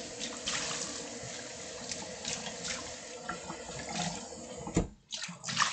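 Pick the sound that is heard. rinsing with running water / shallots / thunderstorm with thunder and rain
rinsing with running water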